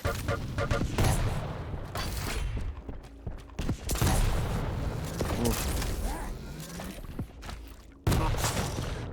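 Gunfire in a Quake duel between two players, dense bursts of weapon shots and explosive hits in quick succession, loud and close, with game sound effects filling the whole stretch.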